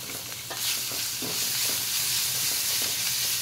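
Boiled mashed potato being mixed into fried onion, chili, turmeric, salt and coriander in a pan for Marathi kat vada bhaji: a steady run of soft stirring and scraping strokes over a light sizzle and hiss, close by, with no voices.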